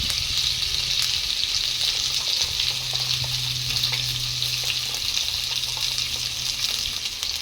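Turmeric, coriander and cumin powder fry in hot oil in a pan for a pangas fish curry, giving a steady, close, even sizzle throughout with no talk.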